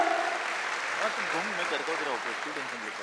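Audience applause for an honoured teacher at a public event in Maharashtra, a broad wash of crowd clapping carrying steadily throughout, with a person talking over it.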